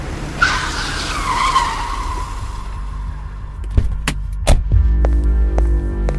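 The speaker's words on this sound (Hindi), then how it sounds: "इन सब बातों से अनजान कबीर तेज रफ्तार में अपनी गाड़ी हर्षद शेट्टी के घर की तरफ ले जा रहा था।" A sound effect in a Hindi audio drama: a speeding car's tires squeal in a long, loud skid that fades, followed by several sharp thuds and knocks over a low rumble.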